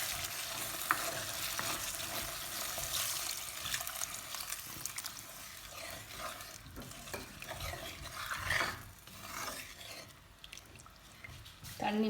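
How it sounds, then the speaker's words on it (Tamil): Water goes into a hot pan of softened tomatoes for a Tamil fish curry, giving a faint splashing, bubbling sizzle mixed with stirring, with some talk around it. "நான் இப்போ இதுக்குள்ள தண்ணி விட போகிறேன்."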